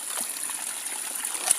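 A small stream trickles softly through a rubber plantation forest, a steady faint wash of water with a thin high insect-like whine above it.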